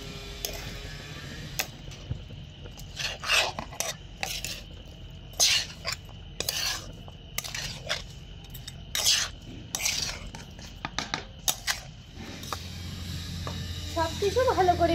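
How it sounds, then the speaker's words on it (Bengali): Semai vermicelli is mixed with salt and sugar in a pot for zarda, a spoon scraping and clicking against the pot in an uneven run of sharp taps; no one speaks. "এবার আমি এটাকে ভালো করে মিশিয়ে নেব"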